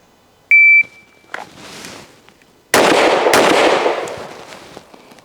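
A handgun is fired in controlled pairs on a range, with a timer beep first and then loud, close, reverberant shots rolling into echoes, and no one talking.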